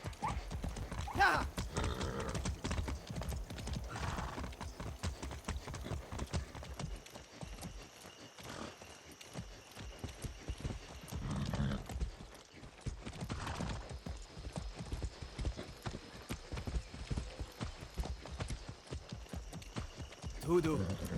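Hoofbeats of a galloping horse in the game Far Cry 6, a steady clip-clop rhythm running through the whole stretch with occasional neighs, set against game sounds and a voice talking now and then.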